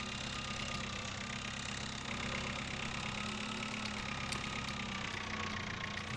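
A farm vehicle engine drones steadily while driving in Farming Simulator 2011, a constant mid-pitched hum with a faint knocking texture, unbroken and fairly quiet, with no talk over it.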